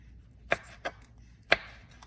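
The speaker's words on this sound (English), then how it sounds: "Slice this really small." A knife slicing a pepper into small pieces on a cutting board, three crisp chopping taps spaced irregularly, close and fairly quiet with no talk.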